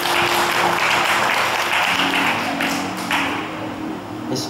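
An audience applauds a volunteer at a hypnosis show at a wellness fair, steady and fairly loud clapping that holds for several seconds before easing slightly.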